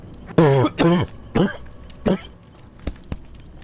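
A man coughs and clears his throat in a close series of harsh, voiced bursts, three strong ones followed by a couple of weaker hacks and short clicks, with nothing else heard.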